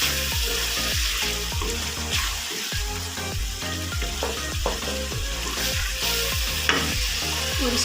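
Wadiyan (sun-dried lentil dumplings) frying with red chilli, salt and spices in a pan, with steady close sizzling and repeated rhythmic scrapes of a stirring spoon throughout, no talking.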